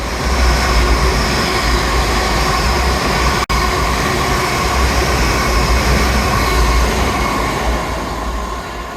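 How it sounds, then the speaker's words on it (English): A train rumbles loudly past a station platform in a continuous roar of wheels and rolling stock, steady and close for the whole stretch, with one brief dropout partway through. "Well, that one's not my train."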